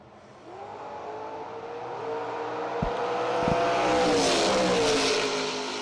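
Drag racing cars at a bracket racing event roar louder as engines rev and build, a sustained rising drone with a couple of sharp pops, heard from a distance and growing closer.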